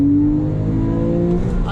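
A Porsche 997 base model with a 3.6-liter flat-six, rear drive, accelerates hard in a steady, loud rising engine note heard from inside the car, with no talk.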